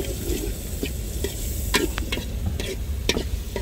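Shrimp and cabbage fry in a pan for a morning meal in the Sundarbans, with a steady oily sizzle broken by sharp scraping and clattering strokes as the food is stirred repeatedly, close and fairly loud.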